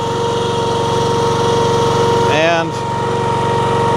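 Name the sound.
Honda iGX390 engine idling on low throttle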